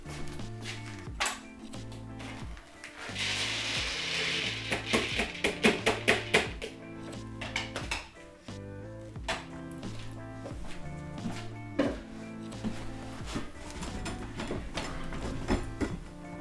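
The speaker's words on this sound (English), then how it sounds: "This machine takes the grain and shears it, or kind of smears it." A grain processing machine shearing and smearing grain runs steadily with a busy, rhythmic mechanical clatter of repeated ticks and knocks over a low hum.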